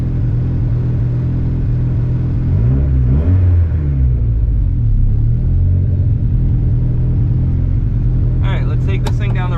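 Built single-cam car engine idling with a steady low rumble, then revving as it pulls away and drives off, with voices talking over it near the end.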